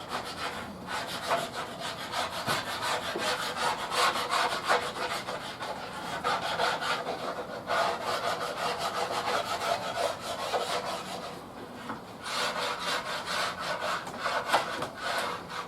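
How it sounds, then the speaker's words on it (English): Old finish being scraped off an oak cabinet door, a steady rhythmic rasping scrape, stroke after stroke at close range, with brief pauses between passes and no speech. "Just do the scraping and all that."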